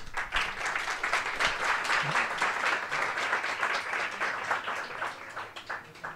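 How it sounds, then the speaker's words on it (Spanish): A large audience breaks into sustained applause for a speaker at a talk, dense steady clapping filling the room for several seconds and tapering slightly at the end. "un aplauso para Ignacio"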